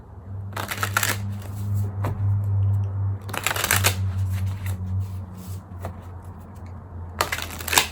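Cards riffle-shuffled in three crisp bursts over a low steady hum, with soft handling clicks in between.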